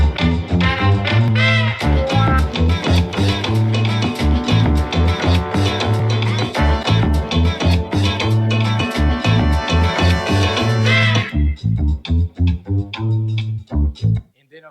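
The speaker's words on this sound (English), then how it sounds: "So now you got the bass, you got the percussion, you got the horns, and it sounds like this." Produced beat built from a vocal loop with bass, percussion and horns, looping punchy low bass hits under bright layered brass stabs, loud and continuous, thinning to a sparser pulsing section near the end.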